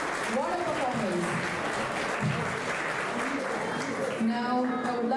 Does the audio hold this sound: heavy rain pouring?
no